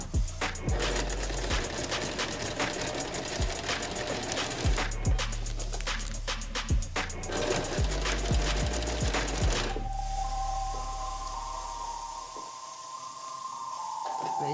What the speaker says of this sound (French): On va essayer de faire une couture propre et régulière.